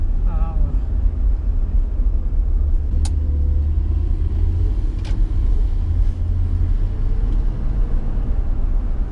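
A 1963 Ford Thunderbird Landau cruises through town, its V8 engine a loud, continuous low rumble that stays steady throughout with little change in pace.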